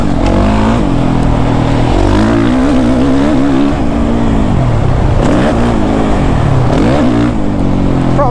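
A Suzuki RMZ 450 dirt bike's four-stroke engine revs hard and loud up close, its pitch climbing and dropping repeatedly as the rider works the throttle along a track.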